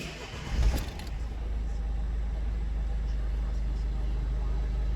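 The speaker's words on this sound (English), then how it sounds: "Right, let's start this car." Peugeot Partner engine cranking and catching near the one-second mark, then settling into a steady low idle close by, with no talk.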